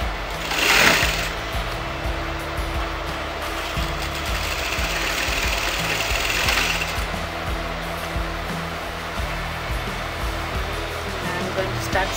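A sewing machine stitching around fabric trim on a circle skirt lehenga runs steadily and close throughout, a continuous motor hum with a brief louder burst near the start and slight swells in speed.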